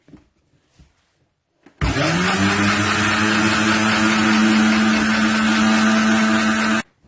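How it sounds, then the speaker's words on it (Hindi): A kitchen blender whirs loudly and steadily for about five seconds as it blends aloe vera, lemon, salt, black pepper and water into a drink, starting abruptly and stopping cleanly after faint handling noises. "और इसको ब्लेंड कर लें।"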